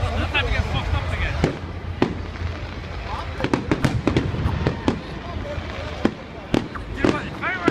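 Hogmanay fireworks bang in a rapid irregular series of sharp, loud cracks and pops, some near and some farther off, over a continuous crackling background with people talking underneath.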